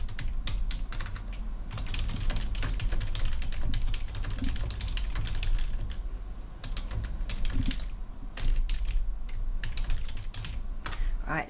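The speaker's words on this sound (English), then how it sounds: "Here we can just type the email for Jane." Steady, rapid typing on a computer keyboard as an email is written, with dense close key clicks running continuously and no speech.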